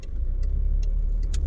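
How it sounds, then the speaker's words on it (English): A privately owned car with about 45,000 miles, driven in Scotland, accelerates hard during a 0 to 60 test, heard from inside as a loud, steady engine and road roar with a few faint clicks. "I'm just going to do a 0 to 60 test on my own car"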